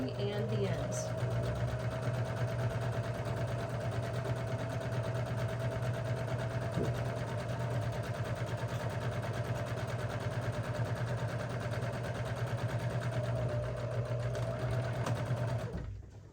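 A sewing machine back-tacks along the bottom of a tote bag in one long continuous whirring run, close and steady, with a voice talking quietly underneath.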